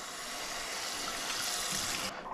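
Water is poured onto a coffee filter paper to wet it, a close, steady trickling stream that stops abruptly near the end.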